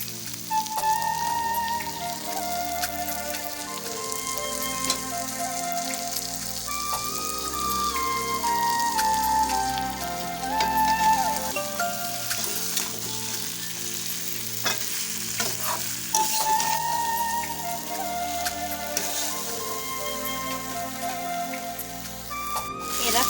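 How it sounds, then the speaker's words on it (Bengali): Chunks of potato are stirred into a thick mutton curry in a pan, with rhythmic scraping and turning strokes over a constant sizzle. Steady tonal music plays underneath the whole time. "আলু দেওয়ার পরে আমি একটু নাড়াচাড়া করে নিচ্ছি"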